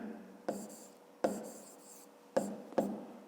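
A pen writing notes for a fifth-grade math exercise, heard as four short close scratchy strokes separated by brief pauses in a quiet room.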